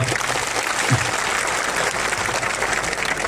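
A large crowd at an outdoor political rally in Khedbrahma, Gujarat, claps steadily and continuously, a dense, even wash of applause with no talking.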